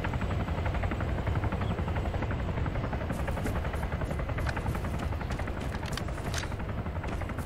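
Loud, continuous thudding of helicopter rotor blades close overhead in the video game Arma 3, a steady pulsing drone with no voices.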